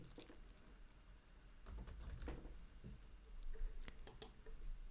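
Computer keyboard typing, soft irregular clicks and taps at close range, quiet and without speech.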